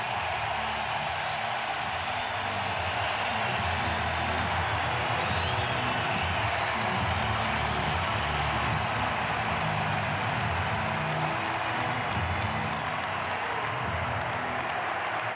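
Steady, loud crowd applause fills a baseball stadium at the 2022 Wild Card Series game between the Tampa Bay Rays and Cleveland Guardians as pitcher Shane Bieber leaves the game, a continuous roar of clapping with no break.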